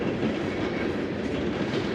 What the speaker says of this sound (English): It's nice to just sit sometimes and watch the train go by.